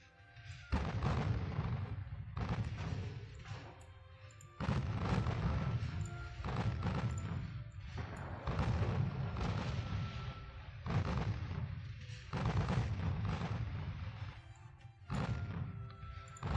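Warship naval gunfire in the naval strategy game Ultimate Admiral Dreadnoughts: loud, repeated deep booming salvos in a continuous rolling barrage, heavy and resonant with brief gaps between volleys.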